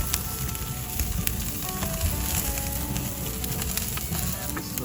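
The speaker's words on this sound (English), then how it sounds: "we've just been seasoning and flipping our steaks" New York strip steaks sizzle steadily on a Kamado Joe ceramic grill over open flames, a loud, continuous close-up crackle and hiss with no talking.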